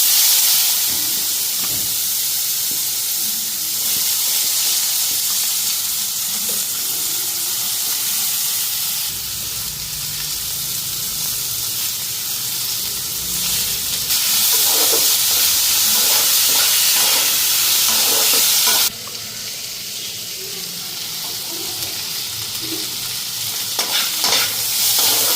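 Potatoes sizzle and fry steadily in a home kitchen pan, a continuous loud hiss with occasional stirring scrapes and clinks, rising brighter near the end as the frying intensifies.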